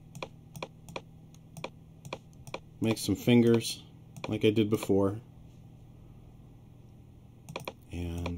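Sparse keyboard shortcut presses on a computer keyboard during work in Moho Pro 13 animation software: a run of crisp, evenly spaced clicks, followed by a person talking, with a few more keystrokes near the end.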